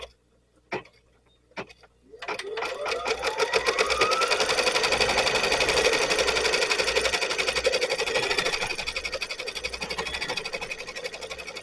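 An embroidery machine starts up after a couple of clicks and stitches a placement outline for a vinyl keyfob, a fast, even mechanical chatter that runs loud and steady at close range.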